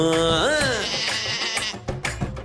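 A single wavering bleat from a lamb or sheep, rising and bending in pitch, rings out over steady music, followed by a few soft thumps and rustles.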